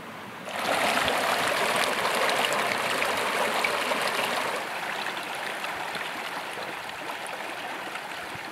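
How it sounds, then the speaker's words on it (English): A creek flows right behind a backcountry campsite in the Rawah Wilderness, producing a continuous rushing, bubbling wash of water that stays steady and fairly close throughout. "there's a creek right behind it."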